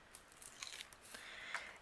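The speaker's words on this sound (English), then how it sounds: "I'm going to remove the release paper" Release paper peeled off foam tape during card making, a quiet close-up series of short crackling, tearing rasps over under two seconds.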